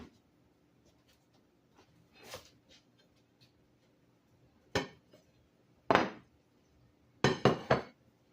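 Homemade Southern biscuits knocked out of a cast iron skillet: a few sharp clinks and thuds of metal and biscuits, isolated bursts with quiet gaps, the last cluster quick and busy, close and fairly loud.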